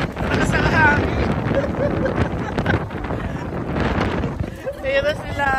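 Strong coastal wind buffets the microphone in continuous gusty roars, with people talking and exclaiming over it.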